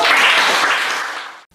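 Students in a middle school classroom break into a burst of loud, dense clapping that holds steady, then fades and cuts off abruptly near the end.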